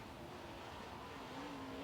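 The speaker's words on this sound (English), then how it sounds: "He sets it down hard with that 525 underneath the hood, mats it down the back straightaway." A late model race car with a 525 engine runs a qualifying lap at Sumter Speedway, its faint, distant engine note holding as a steady drone that climbs slightly in pitch.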